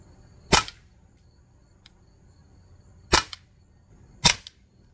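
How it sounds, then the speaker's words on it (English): A Crosman AK1 BB airgun fires three separate semi-auto shots, each a sharp close crack, the first alone and the next two about a second apart, with quiet between them. "Alright, here's just a few semi shots."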